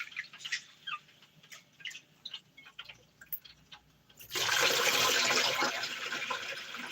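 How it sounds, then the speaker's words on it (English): Rice rinsed in water while making sweet and sour chicken wings: faint stirring and swishing at first, then a loud, steady rush of running water pouring into the pot. "I see people that don't even rinse the rice at all."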